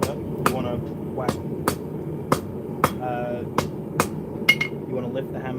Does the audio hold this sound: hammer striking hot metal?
yes